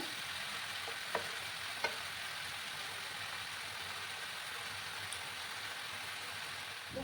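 Pieces of young jackfruit fry in hot oil in a kadai, giving a steady, fairly quiet sizzle throughout with a few soft clinks of a utensil near the start.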